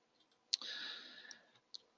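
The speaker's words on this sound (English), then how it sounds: "I'm going to click edit." A quiet, close computer mouse click, a sharp tick followed by a brief soft whir and a second small click.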